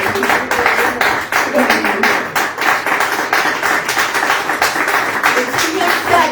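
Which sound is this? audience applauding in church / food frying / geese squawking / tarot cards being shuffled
audience applauding in church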